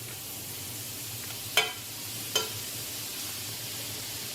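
Butter sizzles in a hot skillet that has just been used for chicken, a steady close frying hiss broken by two short sharp crackles or utensil taps, with no talking.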